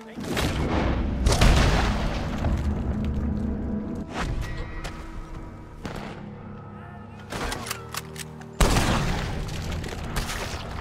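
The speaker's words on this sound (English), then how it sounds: "Why are you shooting at me?" Gunfire and booming impacts ring out in chaotic Red Dead Redemption 2 online play, several heavy shots and blasts spread across the stretch, some close and loud, with echoing tails and quieter gaps between them.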